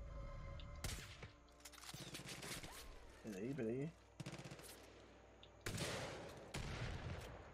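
Gunfire in the video game Far Cry 5: several loud, sharp bursts of shots crack out across the clip, mixed with game effects while someone talks over the action.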